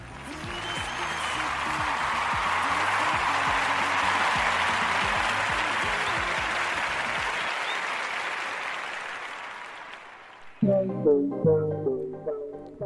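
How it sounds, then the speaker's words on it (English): An audience gives a round of applause after a song on a music and news show, a dense sustained clapping that fades out, followed by a brief burst of music. "we're gonna give this a round of applause"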